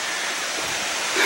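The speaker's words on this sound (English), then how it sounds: "lovely creek and waterfall" A creek and waterfall beside an old railway trestle in a remote forest, a steady, broad rushing roar of falling water, fairly loud and constant.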